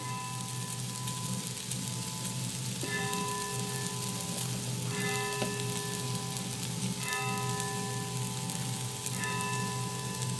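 Raw banana slices with salt and chilli powder fry in a pan with a steady, dense sizzle that runs the whole time. Faint tonal ringing sits above it.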